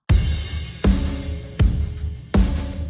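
An unprocessed drum groove from a drum submix, four heavy kick-and-snare hits spaced evenly with ringing decays and a bright cymbal wash between them, loud and close.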